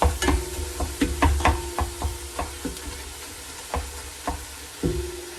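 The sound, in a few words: ground meat browning in pan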